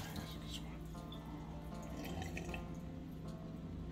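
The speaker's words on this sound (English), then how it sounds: "Water. I get some water." Water runs steadily from a tap, a close, continuous splashing stream with a low hum underneath and no talking.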